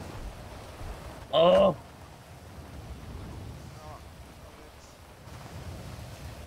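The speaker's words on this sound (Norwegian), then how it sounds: "Det regner jo." Steady rain falls in a roleplay video game, a soft continuous patter heard close, briefly interrupted by a short exclaiming voice.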